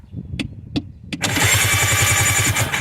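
An electric starter cranks a Yamaha RA700S jet ski engine in a garage. A few short mechanical clicks come first, then a steady rapid whirring churn runs loud and close to the end, with no talk.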